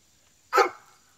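A single short dog bark rings out at moderate distance outdoors, sharp and brief against a quiet background with a faint steady hum.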